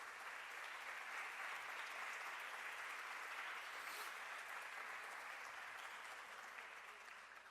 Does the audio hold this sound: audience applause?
yes